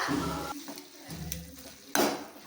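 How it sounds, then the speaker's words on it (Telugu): Ground spice masala being stirred into drumstick leaves frying in a pan, soft sizzling broken by scraping spoon strokes and a sharp clink of utensil against the pan near the end, close up with no talk. "కలుపుకుంటున్నాను ఫ్రెండ్స్. ఇలా మొత్తం మిక్స్ అయ్యేంత వరకు కలుపుకోవాలి ఫ్రెండ్స్ బాగా."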